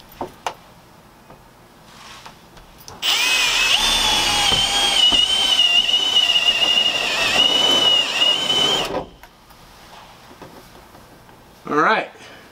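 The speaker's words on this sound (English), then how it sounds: "that's the beauty of using the step bit" A cordless drill with a step bit boring a hole through a Sprinter van's sheet-metal roof for a MaxxFan install: a loud, high whining grind lasting several seconds, then stopping, with talk and light handling noises before and after.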